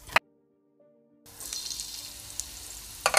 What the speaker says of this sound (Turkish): Bu arada sarımsaklarımın iyice kavrulmasını istiyorum.